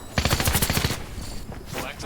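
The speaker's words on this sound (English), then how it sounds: "Someone's shooting me." Video game gunfire: a close, rapid burst of automatic shots in quick rhythmic succession, followed by a softer, noisy tail, with a player's voice present.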